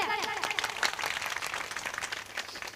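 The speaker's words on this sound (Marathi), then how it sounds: "निदान टाळी तर वाजवा त्यांच्यासाठी जोरदार टाळ्या" Applause and clapping from a crowd of listeners at a Marathi kirtan, a steady dense patter of hands lasting throughout, with a singer's melodic voice audible at the start.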